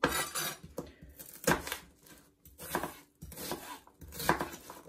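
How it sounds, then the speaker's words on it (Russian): A knife chops an onion repeatedly on a board in bursts of quick strokes, close and clear, with short pauses between runs of cuts. "Затем нарезаем лучок."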